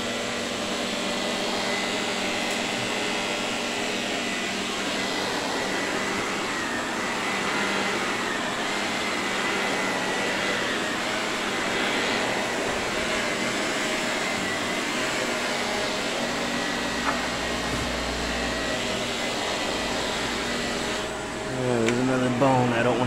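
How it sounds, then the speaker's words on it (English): A Shark Powered Lift Away vacuum cleaner runs continuously on a back porch, a loud, steady whirring drone that shifts briefly near the end. "Pick up with the vacuum."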